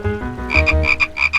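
Frog croaking in a short burst of several quick, rhythmic, resonant calls, close and clear, with no other sounds.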